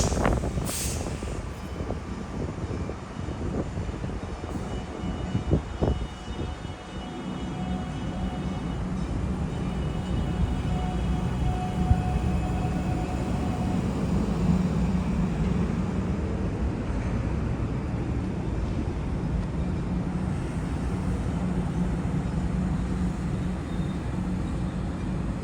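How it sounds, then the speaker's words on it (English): A South Shore Line train pulls away from a station toward Chicago, a sustained loud rumble of motors and wheels with a whine and some clanks early on. "our train roared into life and left, heading even farther into Chicago"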